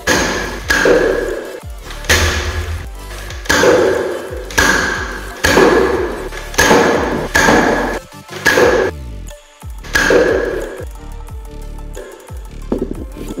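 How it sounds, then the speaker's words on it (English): A Zuru X-Shot Turbo Fire foam blaster shoots at a small box in a quick run of loud, regular thumping shots with a clacking mechanism, about one per second, pausing briefly partway through. "I'm going to shoot it for the firing demo"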